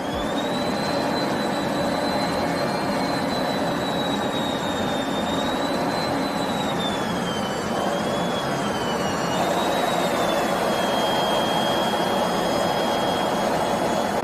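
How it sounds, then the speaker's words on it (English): Fighter jets flying very low over water, a loud sustained jet engine roar with a shifting high whine that bends in pitch as they pass, continuous and close with no speech. "These fighter jets flying really close to the water."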